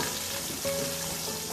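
Onions frying in a pan toward golden brown for matar pulao, a steady close sizzle with crackling throughout, joined partway by a faint tonal hum.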